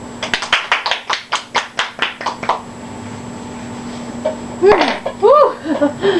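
A small audience claps to welcome a guest, a short run of sharp, evenly spaced claps lasting about two seconds, then it fades as a voice begins speaking and laughs.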